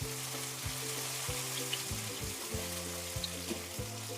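Chopped tomato mixed into onions frying over a lowered flame makes a steady close sizzle, with faint stirring clinks, under a repeating low electronic hum and with no talking.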